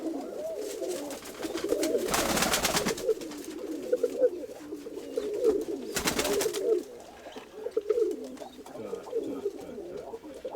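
Pigeons coo softly and repeatedly at close range, with two brief bursts of broadband noise interrupting the steady low cooing.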